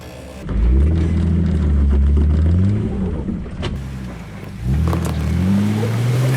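An off-road vehicle's engine revs hard while climbing a trail at Hidden Falls Adventure Park, producing a loud, close roar that surges, dips briefly and then climbs again.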